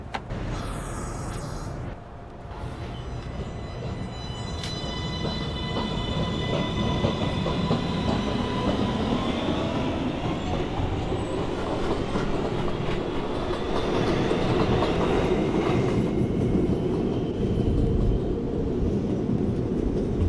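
A new R262 subway train runs as a Manhattan-bound 1 train, a steady loud rumble of rolling wheels with rising motor whine and faint squeals as it gathers speed.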